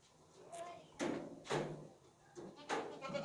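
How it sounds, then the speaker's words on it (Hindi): Goats bleat in short, separate calls at a livestock sale, each call loud and near, spaced about a second apart over a quiet background. "ये बकरी बेस्ट है"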